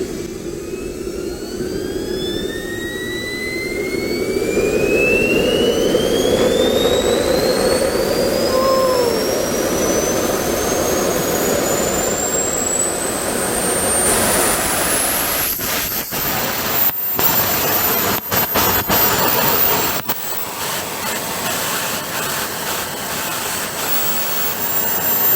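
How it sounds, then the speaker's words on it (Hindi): A Pakistani-built turbo jet engine spools up from a low rumble into a loud, steadily rising whine, then roars continuously at close range, with no talking. "अभी मैं आपको स्टार्ट करके दिखाने वाला हूँ ये टर्बो जेट इंजन"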